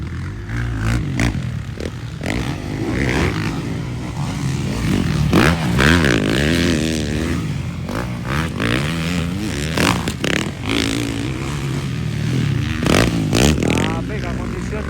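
Motocross motorcycles rev and whine continuously at close range during an expert final heat at Banisilan, pitch rising and falling as they race, with an excited voice commentating over the roar.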